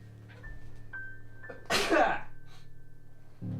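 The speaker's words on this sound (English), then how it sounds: "Had to sneeze, sorry." A single loud sneeze bursts out close by amid quiet background hum.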